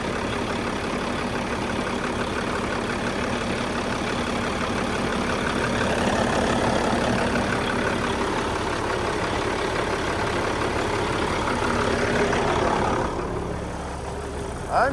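A Kenworth truck's Caterpillar C15 diesel engine idles steadily up close, a low, even rumble that holds for several seconds before the sound drops off near the end.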